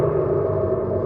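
Abarth 500e electric car playing its synthesized exterior engine sound modeled on the old 695, a short, loud, steady low rumble heard from outside.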